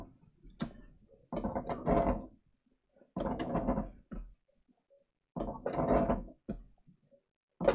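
Domestic sewing machine stitching a curved seam on slim trousers, running in three short bursts of rapid mechanical whirring separated by pauses, close and clear with no talk.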